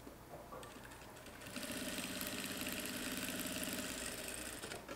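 A sewing machine stitches a seam with a fast, even mechanical whir that picks up and grows louder partway through, then runs steadily and close at a low overall level with no one speaking.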